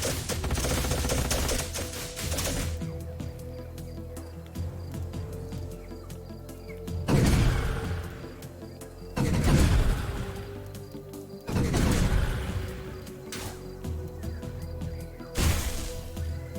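Units fire volleys of shots in the sci-fi strategy game Age of Wonders: Planetfall, with several loud bursts of rapid gunfire separated by quieter stretches of crackling and small impacts, no talking.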